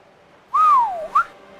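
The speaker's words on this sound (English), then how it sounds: "Stop whistling, boy." A single clear whistle in The Legend of Zelda: The Wind Waker, a rising then falling wolf-whistle glide followed by a short upward chirp, heard alone and close over a faint background hum.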